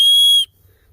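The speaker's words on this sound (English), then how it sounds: "it has this ferricium rod that's also a whistle." A shrill, high-pitched whistle built into a ferrocerium rod sounds once, lasting under half a second, loud and close, then cuts off into near silence.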